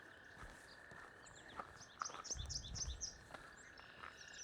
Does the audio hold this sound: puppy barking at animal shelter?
no